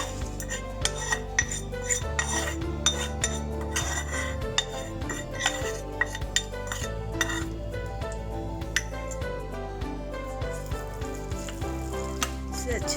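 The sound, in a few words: mixing mashed boiled potato with fried masala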